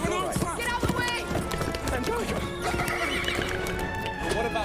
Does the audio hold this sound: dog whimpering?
no